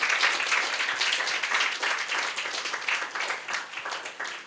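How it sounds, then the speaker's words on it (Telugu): A church congregation claps loudly and rapidly in praise, a dense, sustained patter of many hands close by that fades slightly toward the end. "గట్టిగా చప్పట్లు కొడదాం దేవుని మహిమకరంగా."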